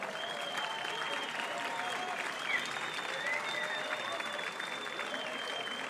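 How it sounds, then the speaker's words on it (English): Steady audience applause with a whistle or two fills an East vs West 12 fight event arena as a Canadian athlete is introduced, sustained and even throughout at a moderate distance. "round of applause for No Limits"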